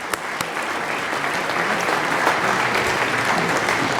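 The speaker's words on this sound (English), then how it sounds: "I think they deserve another round of applause." Sustained applause from a city council chamber audience honoring students, a steady dense clatter of many hands clapping throughout with no speech over it.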